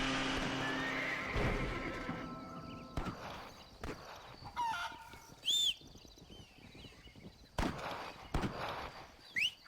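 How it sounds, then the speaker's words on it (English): Horse in Red Dead Redemption: hooves clip-clop up close at first, then a loud neigh and whinnies sound among sparse hoof steps and faint birds. "Horsey."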